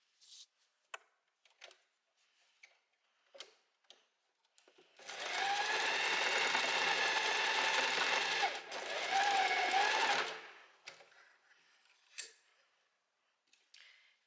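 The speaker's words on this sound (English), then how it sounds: "now you just sew the elastic together" A sewing machine stitches elastic together in one continuous run of about five seconds, with a brief pause partway through. Quiet handling clicks come before and after it.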